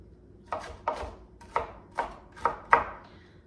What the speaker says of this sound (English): All right, so we have some nice chopped pepper here.